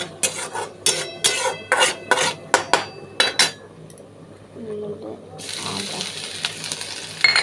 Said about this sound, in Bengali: সামান্য একটু জিরে দিলাম। ভালো করে এটাকে টেনে নাড়ব।